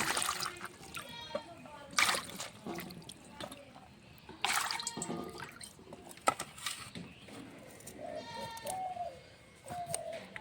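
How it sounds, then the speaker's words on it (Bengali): Cut cauliflower is washed in water, with splashing and dripping in uneven bursts close by, alongside a person talking. "কপিটা কাটা হয়ে গেছে, ভালো করে ধুয়ে নেব।"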